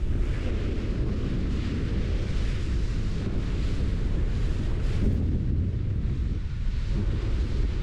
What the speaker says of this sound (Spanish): Mira los vientos, ya empieza el viento y empieza la marea.